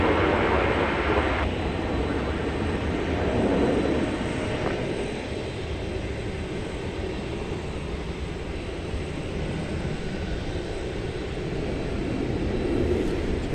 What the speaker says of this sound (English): we have another UPS departure coming up